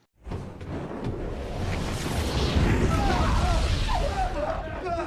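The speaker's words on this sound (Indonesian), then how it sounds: "mereka semua berhasil selamat tepat saat ruangan itu meledak" A sustained, loud rumbling blast with roaring debris-like noise, holding for several seconds before cutting off abruptly, with music or effects layered over it.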